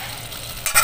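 Sayote being stirred as it sautés in a pan for ginisang sayote with egg, a short scraping stir under a soft steady sizzle that flares louder near the end.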